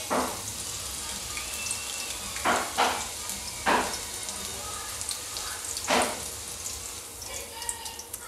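Chopped green chillies frying in oil for potato chivda, a steady soft sizzle with a few louder bursts of spatter and stirring scrapes, no talk.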